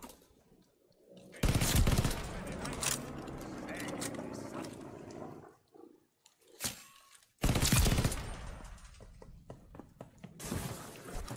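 Rapid automatic gunfire rattles in loud bursts during a round of Call of Duty: Warzone Pacific, with a long volley, a short sharp shot, then another heavy burst, while someone talks between and over the shooting.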